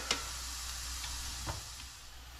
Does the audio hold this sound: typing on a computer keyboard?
no